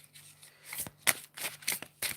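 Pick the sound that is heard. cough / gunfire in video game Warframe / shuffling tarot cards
shuffling tarot cards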